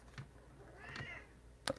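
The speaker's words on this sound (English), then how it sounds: "there she goes, meow" A pet cat meows at a closed door indoors, a soft cry near the middle followed by a sharp, brighter sound at the end, all fairly faint against quiet room tone.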